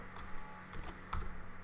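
Light clicking taps on a computer keyboard, a few quick irregular keystrokes in a quiet room, with a faint steady hum beneath and no talking.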